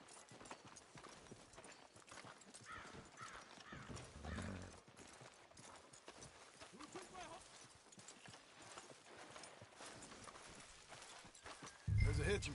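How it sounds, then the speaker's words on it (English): Horse hooves clip-clop in the Western video game Red Dead Redemption, a steady moderate rhythm running under game music and characters talking throughout, with a louder thump near the end. "Tether the horse and I'll meet you across the street."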